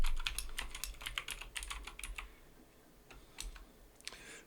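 Rapid keystrokes on a computer keyboard entering a task command in a Linux terminal, a dense burst of close, crisp clicks that slows into a few scattered taps and then one last short flurry.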